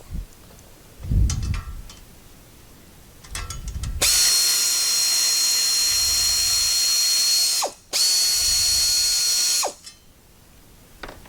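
Ratchet wrench loosening 14mm flange screws on a Polaris Ranger XP1000 rear bumper, a few short clicking bursts followed by a long loud whirring run, a brief pause, then more whirring and quieter clicks.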